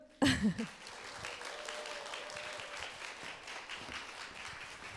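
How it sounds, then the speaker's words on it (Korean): A lecture-concert audience bursts into applause that starts abruptly, then settles into steady, sustained clapping from a crowd. "그러면 박수로 한번 맞아주십시오"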